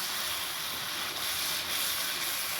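Whole cumin seeds sizzle and hiss steadily in a hot pan of oil, a soft, continuous frying crackle with no talking.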